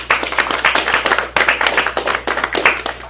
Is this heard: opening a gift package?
no